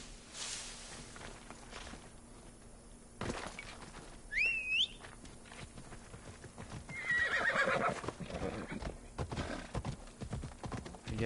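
A horse in Assassin's Creed Odyssey gives a clear whinny amid clip-clop hoofbeats, with the animal trotting close by against a quiet outdoor game ambience.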